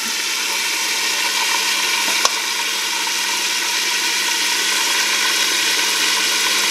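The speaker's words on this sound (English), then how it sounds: "Now it sounded like it was frying a little hard" Chicken frying in a cast iron skillet gives off a constant, loud sizzle with a faint hum beneath, broken once by a single sharp tick.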